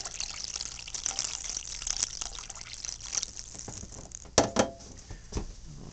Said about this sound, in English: I can accelerate closing that other thermostat just by pouring some cold water in here